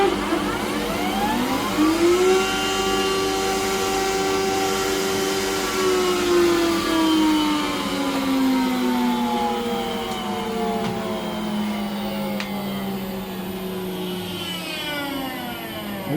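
Power saw taking a small trim cut in wood while building a mitred keepsake box, a loud continuous whine that rises and sweeps in pitch as the blade spins up and bites, holding steady for the whole stretch.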